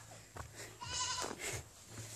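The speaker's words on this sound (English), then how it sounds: "That's the goat right there." A goat in a yard bleats a few times close by, wavering cries separated by short gaps against a quiet background.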